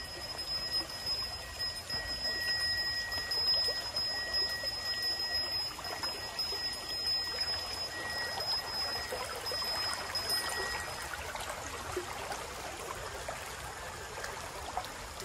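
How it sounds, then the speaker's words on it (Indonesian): Flowing water of a murky river fed by rice-field runoff in Bali, a steady broadband rush heard close by while someone wades across on foot, continuous for the whole stretch with no talk. "Kita nyebrang sungai."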